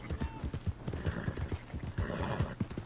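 Horse hooves clip-clopping at a steady trot in Red Dead Redemption 2, close and rhythmic, with a faint voice briefly in the background.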